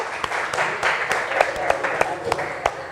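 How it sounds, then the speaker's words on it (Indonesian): Applause from a classroom of students in an Indonesian school lesson, a few seconds of steady clapping with sharp individual claps standing out near the listener. "Aplaus untuk kita semua hari ini"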